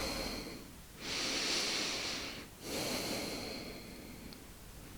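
Slow, deep breathing during a hatha yoga session: two long, airy breaths close to the microphone, separated by a brief pause, with a faint steady background tone and no voices.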